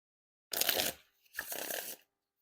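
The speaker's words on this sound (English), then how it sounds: "perfect riffle shuffles and bridge shuffles, no issues there" Two quick bursts of riffle and bridge shuffling of a new deck of playing cards, each a dense papery flutter lasting about half a second, separated by a brief pause, close and clear.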